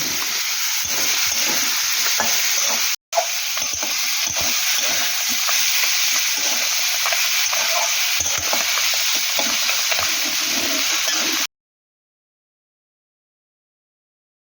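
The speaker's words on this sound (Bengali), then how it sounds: "এবার একটু বেগুন কেটে রেখেছি বেগুনটা দিয়ে দেবো" Eggplant pieces added to a pan of Mourola fish curry, stirred and frying with steady loud sizzling and scraping for about eleven seconds, one brief break partway, then silence. No one talks.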